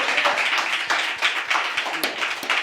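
A crowd claps steadily and fairly loudly, a dense rhythmic patter of many hands with no voices.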